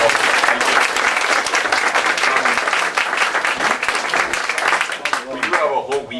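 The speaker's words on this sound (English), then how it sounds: "We just do a quick round of applause for the countless dozens of people" Audience applause for volunteers at a public science event, loud sustained clapping from a large crowd for several seconds before fading toward the end.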